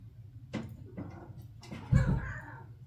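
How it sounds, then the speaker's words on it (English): A pet cat meows a few times faintly in the background behind a closed door, short soft cries spaced out, with a louder muffled thump near the end. "Sorry if you hear my cat crying in the background."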